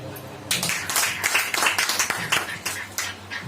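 A church congregation claps in steady rhythm during a Hindi sermon, the beats evenly spaced and fairly loud, with a voice and low tones running underneath.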